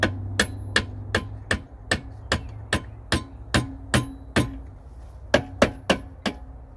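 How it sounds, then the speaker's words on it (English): A mallet taps a part out of a Mercury outdrive bell housing, giving about fifteen sharp metallic strikes in an even rhythm, close and loud, with a quicker cluster near the end. "So this one we're gonna tap with the mallet."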